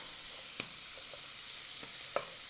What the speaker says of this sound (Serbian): Dok se džigerica prži, iseckaću jednu svežu papriku.